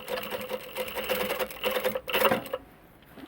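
Sewing machine stitching lace fabric for a skirt alteration, a close, rapid mechanical whirr in steady bursts that stops abruptly near the end.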